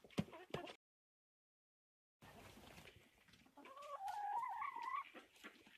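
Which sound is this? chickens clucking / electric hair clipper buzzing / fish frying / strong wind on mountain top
chickens clucking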